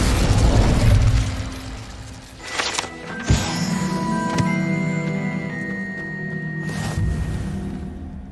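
Incendio fire spell cast in the Hogwarts Legacy video game: a deep whooshing burst of flame with crackling pops and a sharp boom midway, followed by sustained magical tonal ringing and a fading rumble, loud and close.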